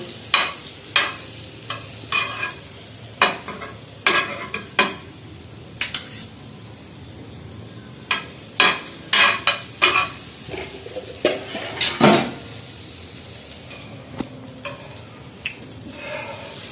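A corn sandwich toasting in butter on a pan gives a low sizzle underneath, while a spatula scrapes and taps the pan again and again at irregular moments.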